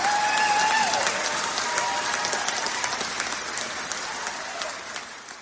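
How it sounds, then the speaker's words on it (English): Audience applause at an EP listening party, steady dense clapping throughout that slowly thins toward the end, with a faint tone and brief voices in the background. "Round of applause on me."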